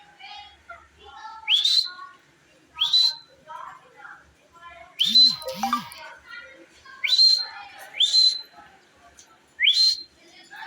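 An Indian green ringneck parrot gives a series of sharp, rising whistled calls, about seven bursts spaced a second or two apart, loud and close, with a couple of lower squawks mixed in.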